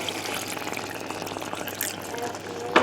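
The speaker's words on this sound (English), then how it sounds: "You want to add a little bit of hot water" Hot water pouring from a tap or kettle into a tin of tomatoes while making beef chilli with quinoa and mixed beans, a steady close splashing fill that ends in a brief brighter burst.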